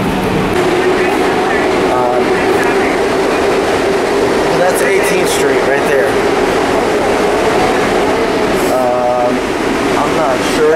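A subway train rides underground with a loud, steady rumble and rattle, with brief squeals and clatter throughout while people talk over it.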